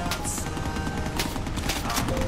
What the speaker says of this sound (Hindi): यहाँ पे तो बंदा है कोई फायर कर रहा है